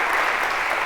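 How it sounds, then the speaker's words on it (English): A brief burst of dense clapping from a crowd, steady and fairly loud throughout. "amazing, a round of applause"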